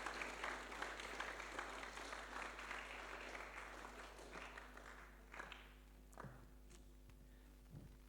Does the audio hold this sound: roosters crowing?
no